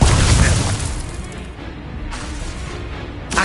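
An Incendio fire spell bursting in a Harry Potter video game: a loud low boom at the start that settles into a rumbling roar, then a second whooshing surge near the end.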